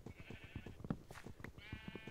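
Faint bleating of several Minecraft sheep, quick overlapping calls repeating against a soft background of blocky game sounds.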